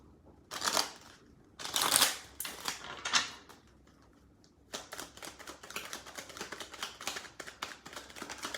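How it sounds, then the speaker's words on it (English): Crisp riffling bursts of a Sibylla deck being shuffled, a few loud ruffles followed by a steady run of rapid light clicks, close and with no talking. "Just want to make sure these are nice and shuffled for you guys."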